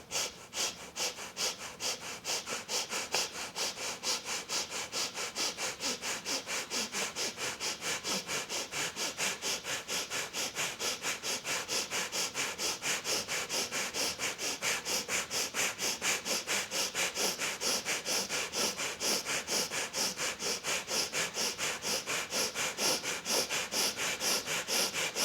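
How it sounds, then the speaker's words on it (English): Breath of fire in a Kundalini yoga practice: rapid, steady panting breaths through the nose, pumped from the belly, repeating evenly and quickly for a long stretch, close and alone without talk. "panting breath through the nose, pumping your belly"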